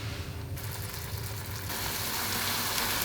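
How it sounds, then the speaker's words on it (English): Potato and onion latkes sizzle in hot oil in a pan, a dense, steady crackling hiss that swells slightly louder partway through, with no talking. "I'm just gonna heat the oil in my pan and start frying them"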